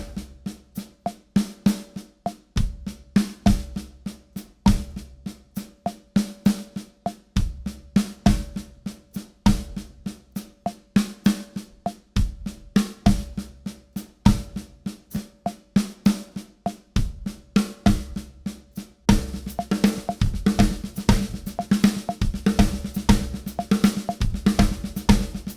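A drum kit plays a six-stroke roll on the feet with accents every third note alongside the snare, a fast, steady, tightly repeating pattern of close, crisp hits that grows denser near the end, with no voices.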